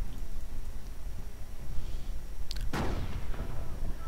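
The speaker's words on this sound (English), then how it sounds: "Anti-tank gun firing away," An anti-tank gun fires in a World War II strategy game battle: a single sharp boom with a short decaying tail, set against a constant low rumbling battle bed.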